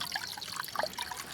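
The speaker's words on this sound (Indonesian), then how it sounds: "jadi kalen ini atau sungai kecil ini masih mengalir airnya ya" A small village stream flowing in the rainy season, a steady soft trickle and babble of water with light bubbling, close and fairly faint, no voices.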